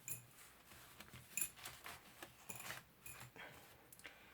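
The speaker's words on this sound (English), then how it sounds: "let's take the paper clips off at least" Paper clips are slid off the folded signatures of a handmade book, giving faint, scattered metallic clicks and light papery rustles in a quiet room.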